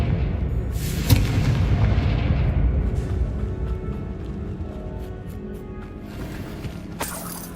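A Confringo blast spell explodes in Hogwarts Legacy, a loud booming burst near the start followed by a long rumbling decay, with a second sharp crack near the end.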